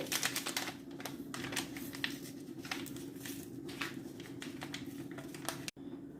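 Truffle batter being mixed by hand in a bowl, a rapid, steady run of soft tapping and scraping strokes, fairly faint, ending abruptly.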